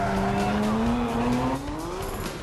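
A Toyota rally car's tires squeal in a long, rising handbrake-turn skid under a loud engine roar at a rally stage, sustained for a couple of seconds before easing slightly.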